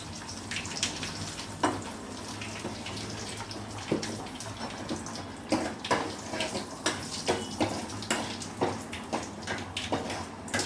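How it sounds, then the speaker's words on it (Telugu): Water pours into a cooking pot holding tomatoes, spices and curry leaves, a steady close gushing wash broken by repeated sloshing splashes, with no voices. "నీళ్ళు వేసుకున్నామండి."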